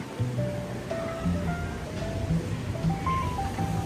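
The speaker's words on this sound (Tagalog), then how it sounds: "Raining ah." Rain falls outside a hotel in Bangkok as a steady, even hiss, with faint tonal chirps and whistles drifting over it and no voices.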